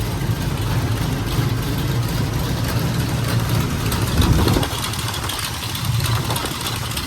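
A 1984 Pontiac G-body idling with exhaust headers leaking badly on both sides, a steady rough rumble with ticking puffs from the leaks, loud and close, briefly swelling before settling back.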